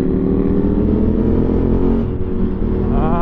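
Steady engine rumble from a car in morning Las Vegas road traffic, loud and close throughout, with a brief revving rise near the end and no talk.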